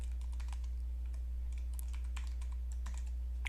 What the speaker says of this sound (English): I type it in